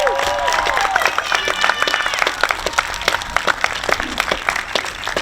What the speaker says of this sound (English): Give yourselves a shout and a round of applause